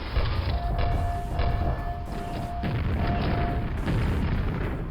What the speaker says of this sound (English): I do have a grenade launcher